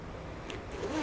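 A cheap zipper on an inexpensive purse is slid along its track, a short, close, scratchy rasp with no voices over it.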